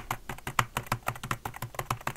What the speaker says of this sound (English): He slams on his keyboard.